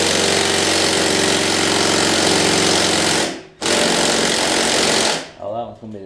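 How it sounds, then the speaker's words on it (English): A quarter-inch impact driver works a bolt loose on a Craftsman LT3000 riding mower with a rotted deck. It gives two loud, rapid hammering bursts close by, separated by a brief pause, then winds down. "I got a 1/4 inch impact here, and that should get me what I need."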